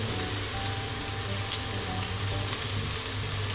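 Garlic and beef steak fry together in a pan, giving off a loud, dense, continuous sizzle heard up close, with no one speaking.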